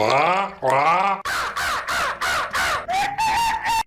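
A voice imitates a pirate parrot with a run of harsh, squawking caws, about seven short loud bursts in a row, the last one a drawn-out screech.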